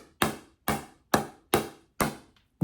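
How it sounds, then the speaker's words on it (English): A pickleball is hit with a Joola Gen 3 paddle, giving five steady, close, deep thunking impacts at an even rhythm with no talking. "that's a much more deeper thunk sound with the propulsion tech working"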